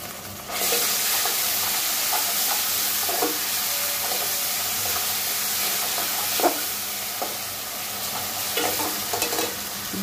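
Half-fried onions sizzle with added ginger and garlic paste for a Bengali chitol fish kalia, a constant close frying hiss punctuated by occasional spoon scrapes and taps, no voices present.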